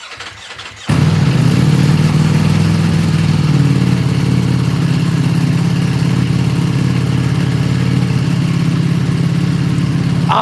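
A Ducati V2 motorcycle cranks briefly and fires up, then settles into a steady, loud, close idle with a deep throbbing rumble that carries on alone without talk.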